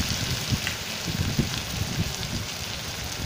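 Chopped onion, crushed garlic and green chili with cumin and bay leaf sizzle in hot oil, a steady close crackle and hiss with small irregular pops.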